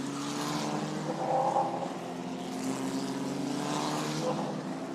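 A Formula Regional race car at the Paul Ricard circuit, its engine a steady mid-pitched drone carried from a distance as it crosses the line, rising and falling slightly in pitch.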